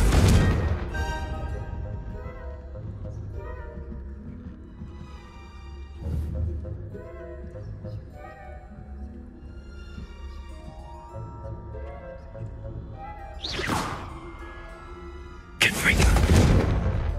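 Fire spell explosions burst out in Hogwarts Legacy, a few sharp booms spread across the stretch, the loudest near the end, over a steady layer of game music and ambience.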